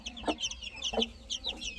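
A hen and her chicks cluck close by, with soft low hen clucks and high chick peeps repeating in quick, uneven bursts.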